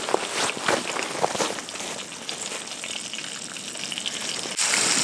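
Walleye fillets frying in a pan inside an ice fishing shack, a close hissing sizzle of hot oil with sputtering pops, steady throughout and briefly louder near the end.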